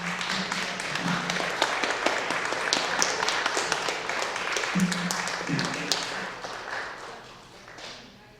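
Audience applause after a talk at a Bigfoot-themed retreat event, a steady wash of many hands clapping at moderate loudness with a few sharper claps and thumps, tapering off near the end.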